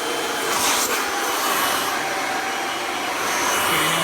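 Kirby Ultimate G Diamond Edition upright vacuum running on its high setting, a steady, loud broadband whoosh and whine that holds constant for the whole stretch with no voices.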